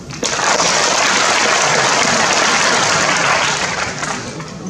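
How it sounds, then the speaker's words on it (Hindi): An audience in Birla Auditorium, Jaipur, applauding at a district-level job fair, a loud, dense, sustained burst of clapping that fills the hall for several seconds and fades slightly at the end. "के साथ मिलकर ताली बजाएं"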